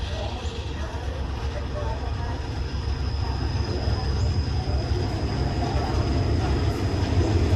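A train rumbles steadily with a deep, continuous roar and a faint high whine, loud and close throughout, at the entrance to Ban Ton Doen railway station in Thailand.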